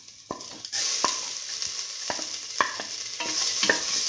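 Ginger sizzles steadily in a hot frying pan, with a spoon stirring and scraping in repeated sharp strokes over a continuous frying hiss.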